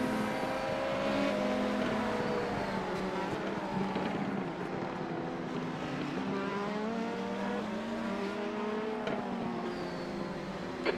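Race car engine at the Sebring 12 Hour endurance race, droning steadily with shifting pitch as a car comes through and passes on track, loud and continuous throughout.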